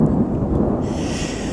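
Low, rumbling thunder rolls through an outdoor thunderstorm, a dense steady roar with no talking over it.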